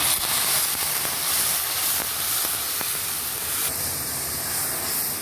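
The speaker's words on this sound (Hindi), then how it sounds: "थोड़ा सा पानी डालेंगे।" A splash of water hits a hot karahi of frying garlic paste, giving a loud, continuous steamy hiss and sizzle with a few sharp pops, heard up close.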